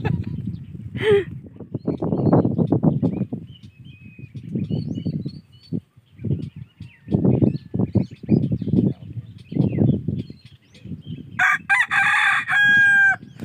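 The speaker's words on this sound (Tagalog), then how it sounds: "may manok dito." A rooster crows loudly near the end, after someone talking at length, with a brief bird call earlier in the background.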